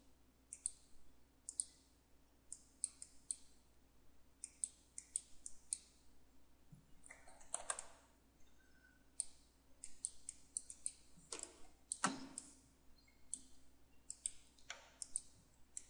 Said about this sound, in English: I'm just going to kind of click along those edges